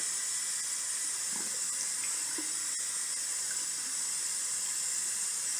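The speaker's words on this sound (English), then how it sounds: "then I will rinse my face off down here" A bathroom sink tap runs in a steady, even stream while a face is rinsed, with faint splashes over the constant flow and no speech.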